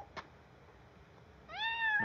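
A cat meows once, a clear, rising-then-falling call near the end, preceded by a short faint knock and quiet room tone.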